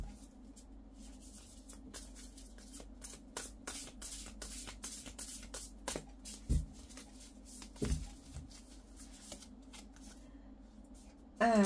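Oracle tarot cards being shuffled in a quiet indoor room, a steady run of soft papery riffles and slaps continuing throughout, a few sharper taps near the end.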